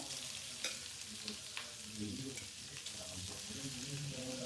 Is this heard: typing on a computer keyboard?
no